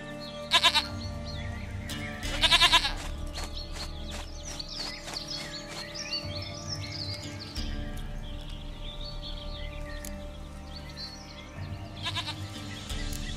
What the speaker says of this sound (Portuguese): Minha cabra! Cabra querida e amada!